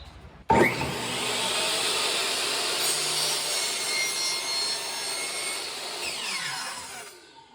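A power miter saw cuts crown molding lined up along the miter edge, starting abruptly and whining loud and steady for about seven seconds before spinning down, with no talk.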